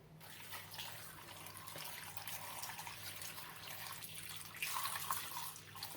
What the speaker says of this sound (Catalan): I ara anem a cobrir-los amb aigua.